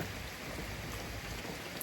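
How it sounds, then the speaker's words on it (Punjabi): Steady rain pours down, a dense continuous patter of drops with no voices and no pauses. "ਹੁਣ ਤੇ ਝੜੀਆਂ ਲੱਗੀਆਂ ਨੇ ਭਾਦੋਂ ਚ"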